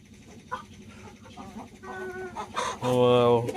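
A grey hen clucks several times close by, short clucks building into a louder, drawn-out call at the end.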